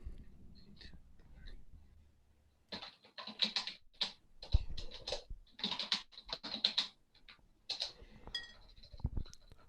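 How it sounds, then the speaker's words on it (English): Loud, rapid typing on a computer keyboard, heard as dense clusters of sharp clicks with brief pauses, close to the microphone, during an online open mic, with no one speaking over it. "That is some loud typing."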